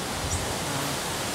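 The Curug Cigentis waterfall gives a steady, dense roar of falling water that fills the whole brief moment with no break.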